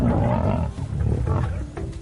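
A lion roars up close, deep and throaty, with rumbling growls that rise and fall in a steady, continuous stretch.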